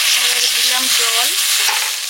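Water tipped into a pan of curry frying with turmeric, chilli and salt sets off a loud, steady hiss and sizzle close by, bubbling continuously with no one speaking.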